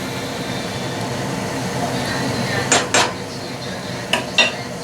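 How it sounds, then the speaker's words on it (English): Navy beans go into a pot with pork shoulder, marked by two pairs of sharp clatters against the pot over a low, steady kitchen hum. "Now we'll add the beans."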